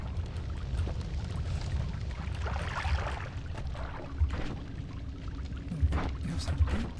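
Liquid pours in a pixel-art alchemy game as material turns entirely into water, a steady soft gurgling trickle running throughout at moderate level.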